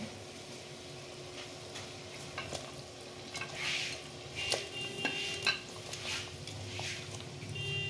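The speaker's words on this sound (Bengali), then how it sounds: "এরপরে আমি মাছগুলো দিয়ে দিচ্ছি" Prawns cooking in a simmering malai curry in a pan, giving a faint low sizzle and bubbling with a few soft clinks and scrapes from stirring.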